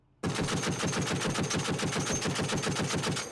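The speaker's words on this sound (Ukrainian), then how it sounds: "Мені здавалося, я тільки почав стріляти, а вже соточка полетіла." A machine gun fires a 100-round box in one long continuous burst, rapid evenly spaced shots starting abruptly and hammering on loudly without pause.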